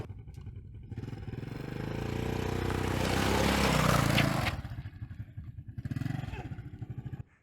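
A Honda Blade 110cc motorcycle ridden close by, its small engine droning and rising for several seconds before easing off into a lumpy idle, with no talk over it.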